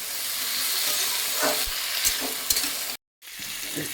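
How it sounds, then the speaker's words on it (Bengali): Oil sizzles steadily in a pan as spices fry with salt while a utensil scrapes and stirs, cut by a brief moment of silence near the end. "লবণ দিয়ে সুন্দর করে আমি ভাজা ভাজা করে নেব।"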